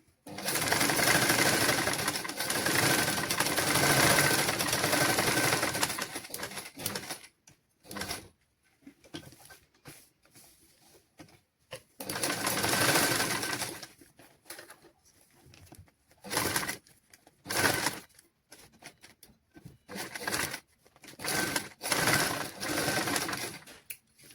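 A sewing machine stitching children's clothing in a tailoring class runs in rapid whirring bursts, long stretches at first and shorter runs later, separated by quiet pauses.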